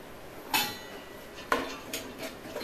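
Onion, carrot and beans are stirred over full flame in a pan for restaurant-style Schezwan fried rice, with a few sharp metallic clanks of a spatula against the pan over a low frying hiss.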